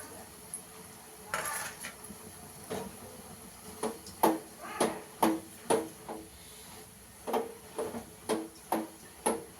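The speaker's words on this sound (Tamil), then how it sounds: "தேங்காய் போட்டு நல்லா கிளறி விட்டுருக்கோம்" A spatula stirs grated coconut into a greens stir-fry of drumstick leaves and small tomato leaves in a metal pan, clanking and scraping in a steady rhythm of about a dozen distinct knocks that grow louder after a quieter start.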